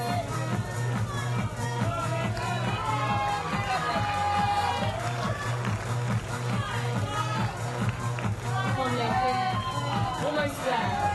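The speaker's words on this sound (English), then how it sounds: "It's great to hear the crowd cheering on the athletes." A crowd cheers and chatters throughout a bouldering final at the Qatar 2019 World Beach Games, a dense, continuous roar of voices with swells of shouting and a commentator talking over it.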